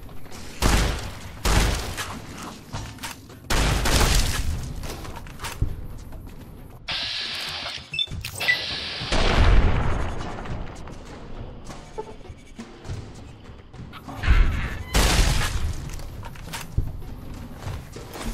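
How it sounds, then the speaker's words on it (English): Shotgun blasts in the video game Fallout: New Vegas during a gecko hunt in the desert, several loud booming shots spaced irregularly among other game sounds and footsteps. "I can miss with a shotgun at this range."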